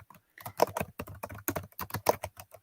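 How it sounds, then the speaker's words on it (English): Fingers type on a computer keyboard in quick, uneven bursts of close, crisp clicks and clatters, with brief pauses between runs and no speech. "I'm typing."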